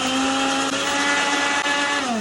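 A kitchen blender whirs steadily at high speed, loud and continuous, blending sugar and oil for homemade chocolate hazelnut spread.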